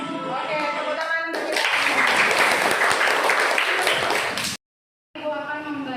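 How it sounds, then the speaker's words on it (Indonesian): Classroom students clapping together for several seconds, a dense loud burst that cuts off abruptly, with teacher speech audible before and after. "Oke, tepuk tangan."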